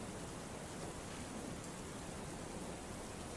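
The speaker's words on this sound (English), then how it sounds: "The rain pelts the roof even harder now, making it hard for you to even hear your own footsteps." Heavy rain pelts a roof as an ambient sound effect for a Call of Cthulhu tabletop session, a dense, even, hissing roar that stays constant and unbroken throughout.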